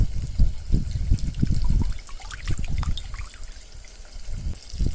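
Dissolved tamarind water is strained while preparing sundakkai vatha kuzhambu, giving close splashy pours and trickles in irregular bursts, louder at first and then softer with small drips.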